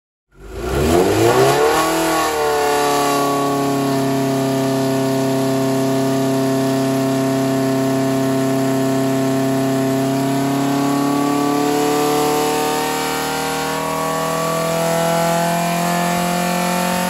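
A Ford Pinto engine on Weber 45/48 DCOE carburettors runs a dyno power run, climbing quickly from a start into a loud, sustained high-revving roar that holds steady for many seconds, close and alone.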